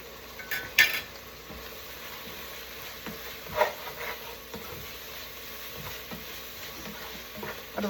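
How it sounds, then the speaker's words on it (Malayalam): A spoon stirs roasted peanuts into tomato rice in a cooking pot, giving quiet scraping with scattered clinks and a faint background hiss. "ആ എല്ലാ കപ്പലണ്ടിയും അതെല്ലാം കൂടെ ഇതിൻ്റെ അകത്തോട്ട് മിക്സ് ചെയ്യാം"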